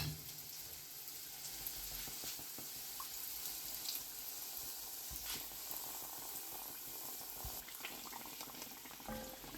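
Sweet Bengali handesh batter fries in hot oil with a steady, faint, hissing sizzle. A few small crackles and pops sit on a constant bubbling bed.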